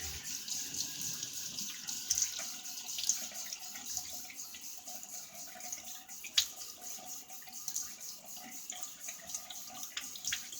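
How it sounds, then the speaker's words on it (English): Water runs steadily from a bathroom tap into a sink as the face is wetted before a shave, a continuous close hiss with a few faint splashes and no talk. "Let me go ahead and wet the face and start getting some lather going."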